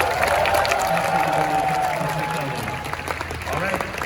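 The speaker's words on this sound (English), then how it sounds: "how about everyone a big round of applause for Shannon and Tom" An audience at an Ultraman event at Anime Expo 2022 applauds and cheers, a moderate crowd clapping mixed with voices and background talk that thins out toward the end.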